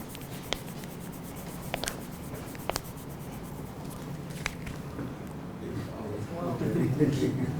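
Marker squeaking and scratching across a board in short strokes, with a few taps, then low background chatter from a conference audience rising near the end.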